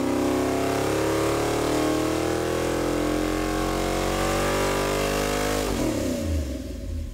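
A junkyard 460 cubic-inch big-block V8 revs hard on a dyno, a loud, steady roar with rising harmonics through a sustained pull before dropping off abruptly near the end.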